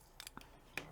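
Scissors snipping a short piece of zipper trim on a handmade thermal bag, a few quick close cuts in a quiet room.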